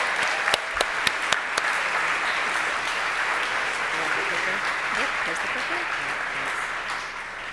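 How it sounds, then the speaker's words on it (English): A school assembly audience gives a warm round of applause to welcome Joanna to the stage, steady dense clapping with a few sharp individual claps near the start, sustained throughout. "Please give a very warm and welcoming round of applause for Joanna."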